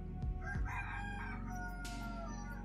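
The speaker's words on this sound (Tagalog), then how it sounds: "Yun, manok." A rooster crows loudly and close by, a single drawn-out call ringing over steady background noise.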